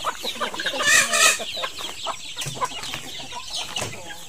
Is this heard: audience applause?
no